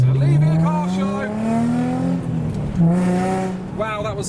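A modified car leaving a car show revs hard, the engine note rising and then dropping through gear changes. It sounds loud and close, and people talk faintly in the background.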